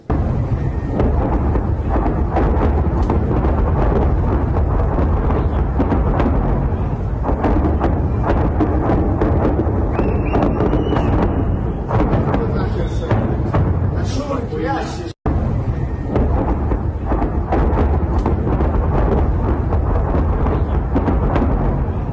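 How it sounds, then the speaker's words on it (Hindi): Heavy explosions from a nighttime Russian missile attack on Zaporizhzhia, Ukraine, dense booming rumble with repeated impacts over a long stretch, partly under a person talking. "आधी रात को भीषण धमाकों से दहला है ज़ापोरिज़्या"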